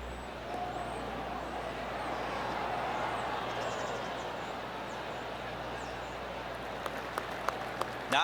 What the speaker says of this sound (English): Oh, I can hear the golf claps around the course.